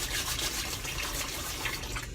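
Running water splashes steadily in a sink while washing dishes by hand, a close, continuous wash of sound with no talking.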